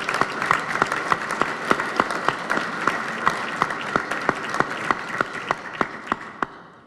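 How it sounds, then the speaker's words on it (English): A dinner audience at an awards banquet applauds with steady, moderately close clapping, individual claps standing out sharply in a regular rhythm over a dense wash of hands that thins toward the end. "if you would like to give her a round of applause for such a great evening"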